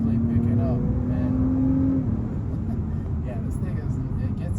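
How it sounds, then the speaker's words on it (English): Turbo AWD Acura TLX Type S sedan accelerating, its engine drone rising steadily from inside the cabin over road noise while a person talks throughout. "the engine is now quickly picking up"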